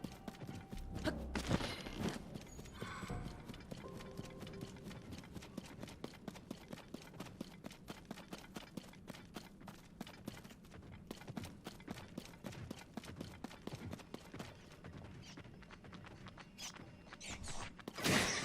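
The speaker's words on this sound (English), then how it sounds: "I hear loud footsteps." Heavy footsteps in Zelda: Tears of the Kingdom, a long run of rapid, evenly spaced thuds like clip-clopping hooves, steady and moderately loud over a faint background.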